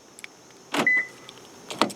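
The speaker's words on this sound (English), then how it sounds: "I'm going to hit the lock button." Door locks of a 2009 Toyota Camry engaging from the key fob lock button: two short, close mechanical clunks about a second apart, with a brief faint tone, in an otherwise quiet setting.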